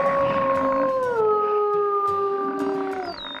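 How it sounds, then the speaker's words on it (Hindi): Several wolves howl together in long, wavering tones that slide downward, with overlapping voices and a higher howl joining at the end. "ये शायद किसी भेड़िए की आवाज़ है।"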